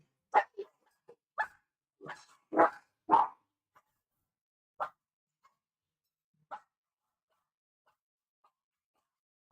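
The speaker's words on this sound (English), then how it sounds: "Who made the dog bark?" A pet dog barks in a series of sharp, separate woofs, clustered early and then spaced out, each bark loud and close in an otherwise quiet room.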